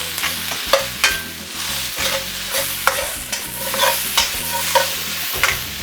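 Chicken chow mein with bean sprouts is stir-fried in a hot wok: a loud constant sizzle broken by repeated tossing and scraping bursts at an uneven rhythm, close up.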